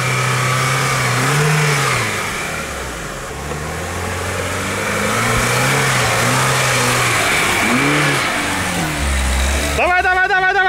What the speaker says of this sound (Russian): Сейчас посмотрим, как травленная резина поедет